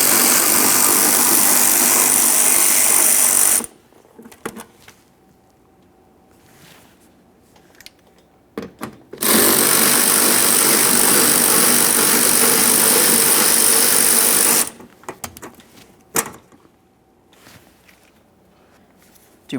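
A power tool runs loudly in two sustained bursts, removing 5.5mm mounting bolts from a 2015-2020 Ford F-150 during an antenna base and cable replacement, with quiet clicks and handling noises in the pauses between.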